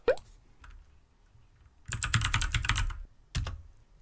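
Bursts of fast typing on a computer keyboard while entering a password, a short tap, then a dense flurry of key clicks and a final cluster, close and alone.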